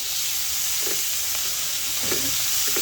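Tomatoes sizzle in hot oil as they are sautéed for ginisang ampalaya, giving a steady, loud frying hiss broken by occasional soft stirring scrapes.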